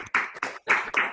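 A few online attendees clap after unmuting at the close of a book seminar, giving four distinct bursts of hands, close and somewhat compressed.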